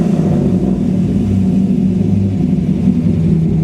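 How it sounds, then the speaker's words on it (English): Deep exhaust rumble from a 1999 Corvette with a Cartek-built engine, a steady loud idle heard up close with no talking. "Let's listen to this rumble."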